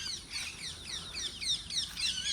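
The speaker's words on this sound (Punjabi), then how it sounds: "ਇੱਥੇ ਪੰਛੀਆਂ ਦੀਆਂ ਤੁਹਾਨੂੰ ਆਵਾਜ਼ਾਂ ਸੁਣਦੇ ਦੇ ਹੀ ਰਹੀਆਂ ਹੋਣਗੀਆਂ" Small birds chirp in quick repeated bursts outdoors in a Punjab village by a farm water pump, high bright twitters coming in a steady rhythm from a short distance away.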